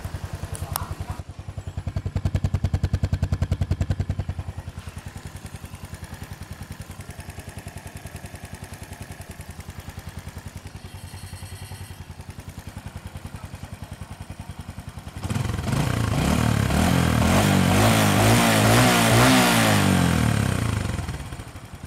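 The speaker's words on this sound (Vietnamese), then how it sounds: "Thì cho anh em nghe cái tiếng máy nổ của cái cục máy FP này trước đi." An FP engine runs steadily and chugs close by, with a rattling, clattering mechanical tone, then grows noticeably louder and rougher in the last few seconds as it revs up.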